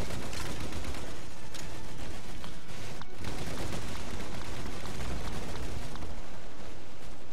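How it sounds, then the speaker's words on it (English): Grenade explosions and gunfire in the Star Wars Battlefront 2 video game, a dense, loud, continuous barrage of blasts and shots with a sharp burst near the middle and no voices. "grenades everywhere"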